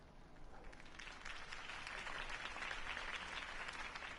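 A crowd at a campaign speech in the Batman Telltale video game applauds steadily, the clapping swelling after a moment and holding at an even level, slightly distant.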